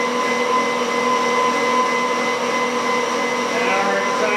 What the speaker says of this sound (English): now we're going to go into regenerative braking mode.